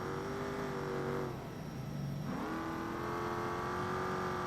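Off-road Baja race car in BeamNG powering through desert sand, its engine droning at steady revs, briefly dropping off, then climbing back up under throttle and holding a strong, close, continuous whine.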